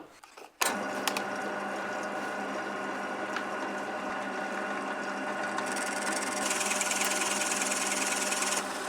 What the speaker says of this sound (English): so I drilled slowly to prevent them from shifting